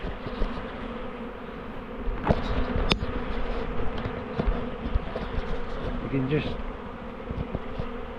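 A swarm of honey bees hums in a dense, steady buzz as it moves into a nucleus hive outdoors, with individual bees droning close by the microphone and faint talk in the background.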